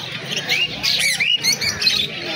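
Caged finches and other small birds at Naihati pet market in Kolkata chirp and squawk close by, a busy overlapping chatter of sharp, rising calls that continues throughout.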